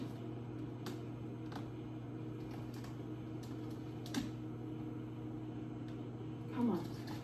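A microwave oven runs with broccoli heating inside, giving a steady low hum throughout, with a couple of faint knocks of kitchen activity nearby.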